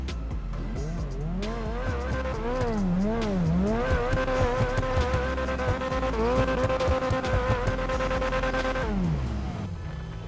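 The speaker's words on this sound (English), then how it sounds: "this car has an engine sound which isn't proper for this. Let's give it some revs and just give it a listen." An Invetero Coquette D5 sports car in GTA Online revs its engine repeatedly for about ten seconds, with the pitch rising and falling in sweeping waves before settling into a steady high rev and dropping off.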